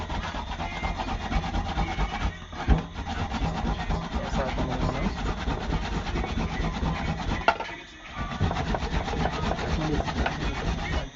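Plantain is grated by hand on a grater set over a container, making a continuous rough rasping scrape in quick repeated strokes, close and fairly loud, with two brief pauses.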